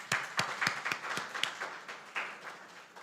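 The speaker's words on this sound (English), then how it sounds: "Let's applaud them," Scattered clapping from an audience at the launch of an alumni association, with a handful of distinct hand claps over a soft wash of applause. It is moderately loud and steady, with no talk.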